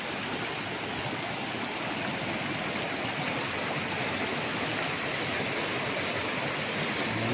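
A clear river in Liliw, Laguna rushes steadily over stones, a constant broad wash of flowing water with no voices over it.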